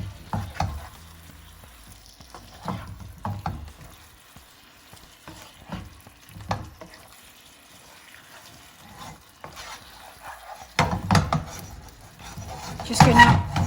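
Fish pieces simmering in a spicy coconut masala curry in a pan, a soft bubbling sizzle with intermittent scraping stirs, close and moderately loud, growing busier toward the end.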